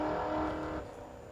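A 6-litre LS V8 fitted in a Bluebird race car snarls loudly at a drag-racing meeting, a brief close roar that holds steady and then drops away as it passes.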